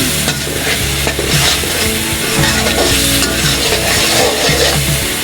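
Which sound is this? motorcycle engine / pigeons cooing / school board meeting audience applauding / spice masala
spice masala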